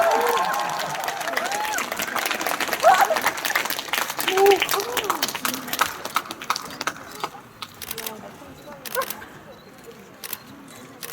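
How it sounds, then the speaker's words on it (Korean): Scattered applause from an audience at a film promotion event, loud at first and thinning out, with voices and camera shutter clicks mixed in. "박수로 계속 쳐주시면 될 것 같아요"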